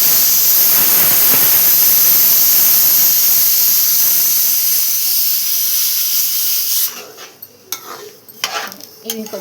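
A pressure cooker on the stove vents loudly, a strong continuous hiss of escaping steam that cuts off sharply partway through, followed by clinks of pots and utensils nearby.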